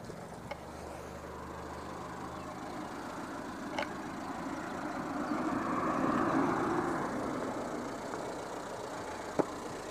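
A Renault 11 GTL idling, a low steady engine hum heard from close by that swells slightly midway, with a few faint clicks and a brief tap near the end.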